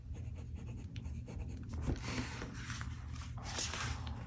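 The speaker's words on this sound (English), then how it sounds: "This is the first time that I'm writing on this specific insert." A Lamy Safari fountain pen with an F nib scratches across a paper insert, a soft, steady scraping of strokes that runs close and quiet without pause, with no talking.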